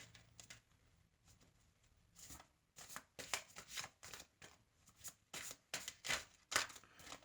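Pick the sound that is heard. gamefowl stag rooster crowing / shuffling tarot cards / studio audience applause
shuffling tarot cards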